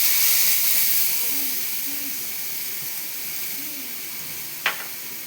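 A ground paste of sesame, mustard and green chili hits hot tempering oil with black cumin, bursting into a loud steamy hiss that slowly fades, with one sharp click near the end.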